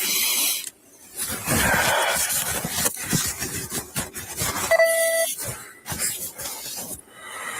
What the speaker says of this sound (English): That's the freaking whale blowing.